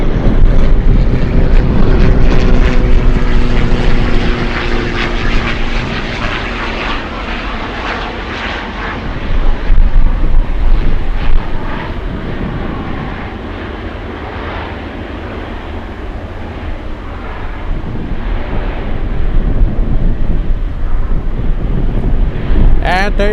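A Kalitta cargo jet arriving from Narita roars loudly overhead at Anchorage, engine noise swelling and fading amid heavy gusting wind buffeting the microphone throughout.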